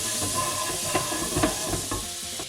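Pork fillet wrapped in bacon frying in butter, a steady broad sizzle with a few soft clinks and stirring knocks, close and continuous throughout.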